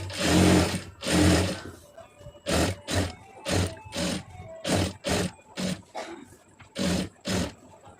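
A sewing machine stitches a blouse in a quick series of short, loud bursts, about a dozen stop-start runs close by, with brief silences between them.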